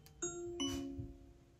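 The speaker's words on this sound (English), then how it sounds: "whenever somebody presses the doorbell, it actually announces through the Alexa devices that somebody's at the door." A Eufy doorbell chime announced through an Alexa speaker at home: two soft bell tones ringing out in quick succession, faint and clean with no talking.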